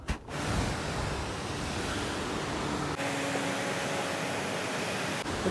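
Water sprays onto the outside of a hot tank to cool it, making a continuous broad rushing hiss that dips briefly twice before resuming.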